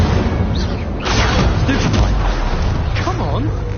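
Incendio fire spell cast in a wizarding video game, a burst of whooshing flame with booming impacts and crackle, mixed with a grunt and other combat noises.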